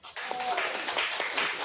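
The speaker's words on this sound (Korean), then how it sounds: "잘했으면 박수." An audience at a seminar lecture breaks into a short burst of applause, a dense patter of hand claps at moderate level for under two seconds.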